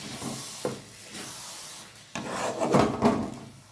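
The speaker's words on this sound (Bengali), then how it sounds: "এটা ভালো করে এবার কষিয়ে নেব।" A spatula scrapes and stirs a chana saag greens and mung dal mixture in a pan, with rough rubbing strokes, a pause, then a louder burst of scraping.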